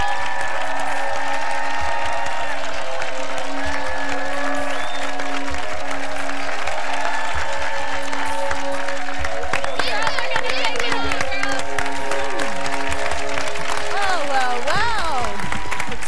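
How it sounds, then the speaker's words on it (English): A game-show studio audience applauds steadily for an eliminated contestant, the dense clapping running throughout under music and a bit of crowd noise. "Give her a big round of applause."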